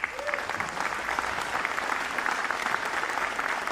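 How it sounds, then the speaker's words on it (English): A crowd at a Bob Hope USO anniversary event applauds a senior director, a dense, even wash of many hands clapping at moderate distance, with no voices over it. "let's give a round of applause to Greg Waskell"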